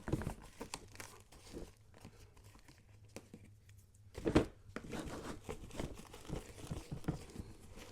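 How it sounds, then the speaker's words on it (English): Backing is peeled off two adhesive strips on a photography equipment hard case, giving faint crinkling and tearing rustles in short bursts, with one louder rip partway through, close and quiet. "So it has these two adhesive strips on the back. So it'll go in like that. Just peel it off like that."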